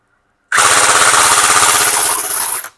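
A Double Bell 023 AKM electric BB gun with metal body and real wood furniture fires a single loud, close, full-auto burst lasting about two seconds, its rapid mechanical chatter starting abruptly after a short silence.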